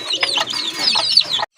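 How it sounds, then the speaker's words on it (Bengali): A native hen clucks at close range at a market stall selling local chickens and pigeons, giving a short, loud burst of several quick, raspy clucks before cutting off. "এখানে কিন্তু আরেকটা মুরগি আছে"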